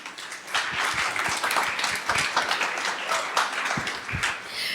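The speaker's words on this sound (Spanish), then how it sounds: "vamos a darle un fuerte aplauso a Adri" A church congregation applauds with a dense, steady patter of many hands clapping for about five seconds, close and lively.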